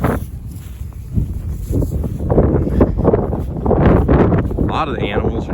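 Strong wind buffets the microphone outdoors in a winter pasture, a loud continuous low roar that swells and gusts throughout.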